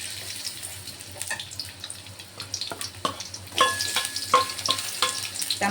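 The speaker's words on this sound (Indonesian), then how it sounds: "kita mau panaskan minyak, kemudian kita mau goreng dia punya bumbu ya. Saya mau goreng bawang merah," Shallots and garlic frying in hot oil for a fish sambal, a steady close sizzle with scattered clinks and scraping from stirring, growing a little louder and busier toward the end.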